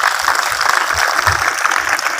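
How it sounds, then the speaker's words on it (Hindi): Loud, steady clapping from a crowd of participants at a girls' skills and youth awareness camp, a continuous close wash of many hands with no pause. "तो चलिए आप सबके लिए पुनः एक बार ताली बजाइए अपने लिए"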